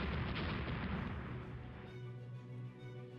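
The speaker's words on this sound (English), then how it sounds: "Unsighted, hit by torpedo." A heavy rumbling explosion from a torpedo hit in the naval video game Rule The Waves, a dense low roar that fades into a softer tail.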